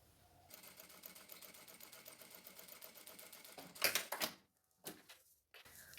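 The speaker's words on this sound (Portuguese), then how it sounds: "E em um dos lados eu vou fazer uma costurinha bem na beiradinha." A sewing machine running a fast, even stitch along the edge of a fabric piece, a steady rapid needle chatter that stops abruptly, followed by a few clicks and handling knocks, close and quiet.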